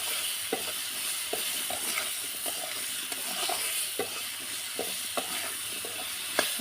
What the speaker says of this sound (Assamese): এনেকৈ অলপ টাইম ভাজি ল'ম।